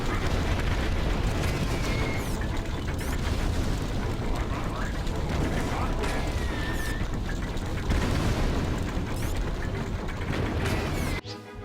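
Tank guns firing and explosions in the video game Battalion Wars 2 form a dense, loud, continuous din of blasts and mechanical clatter that runs without a break before cutting off abruptly at the end.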